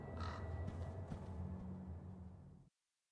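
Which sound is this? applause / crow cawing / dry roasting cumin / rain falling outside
crow cawing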